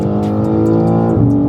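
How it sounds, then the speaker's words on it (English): A BMW G80 M3 or G82 M4 held on the brake in pre-launch control, its engine droning steadily loud and near with strong harmonics, rising in pitch toward the end as the launch begins. "firmly press down on the brake. We're gonna firmly press down till we hit the kick down on the accelerator"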